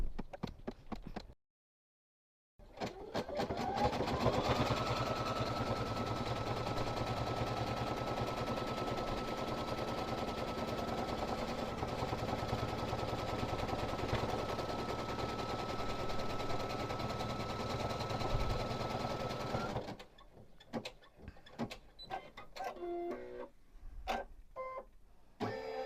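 Sewing machine running steadily for about seventeen seconds while stitching quilt wall hanging pieces, a close continuous mechanical whir, with brief handling clicks before and after.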